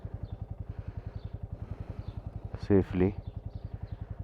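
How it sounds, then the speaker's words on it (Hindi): A motorcycle idles after a cold start on a ride in the Zanskar region, thumping in an even, rapid rhythm close by, with a brief spoken word over it. "और बाइक को कोल्ड स्टार्ट कर दिया है।"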